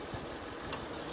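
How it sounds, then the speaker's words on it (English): The engine of a 2006 Honda Ridgeline with about 255,000 miles hums faintly and steadily, with a soft low rumble and no talking. "engine is still running pretty strong"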